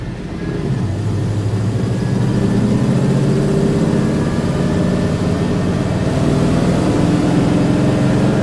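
A Holley-carbureted Magnum 5.9L V8 runs steadily and loudly close by, its deep low rumble holding an even, sustained drone with no voices over it.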